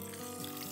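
Rice and urad dal are rinsed in a bowl of water, giving a steady close swish and trickle of water throughout, with no voices.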